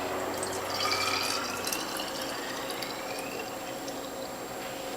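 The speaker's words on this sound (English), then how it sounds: "So I'm going to top it off with either filtered or distilled water." Filtered water is poured into a bottle of homemade cucumber, chard and carrot juice, a steady trickling fill whose pitch rises as the bottle fills, heard close and alone.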